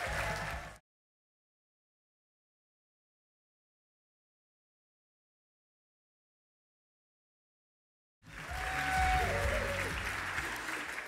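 Audience applause greeting two guests at a live event, a short burst at the start, then a long silence before a fuller, sustained wave of clapping returns near and loud.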